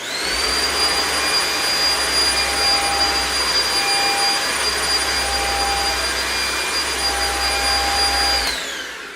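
A Eureka Flash lightweight stick vacuum cleaner runs steadily on a hardwood floor, a loud continuous whine with high tonal hum, close and alone, before cutting off near the end.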